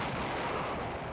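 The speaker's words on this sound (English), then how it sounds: "Someone's getting fucked up by artillery." Artillery fire in the Battle Engine Aquila video game, a dense, loud, rumbling barrage of blasts that blend into one continuous roar for a brief moment, without any voices.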